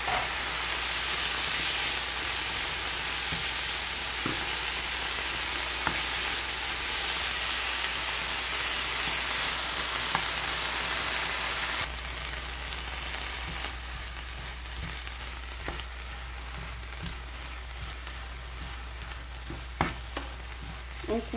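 Onions fry with peppers in a pan, a continuous close hissing sizzle with occasional stirring scrapes, slightly quieter after the midpoint, and no talking.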